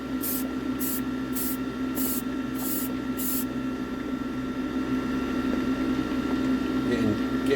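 Spray paint hisses in six short, evenly spaced bursts onto the cab of a 1960s Corgi Major Bedford diecast tanker during restoration, close and crisp over a steady low mechanical hum, then the bursts stop and the hum continues alone.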